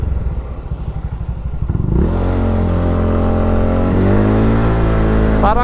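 A motorcycle revs up from a low idle putter into a steady, loud acceleration, engine note climbing and shifting as it rides through traffic, close and prominent.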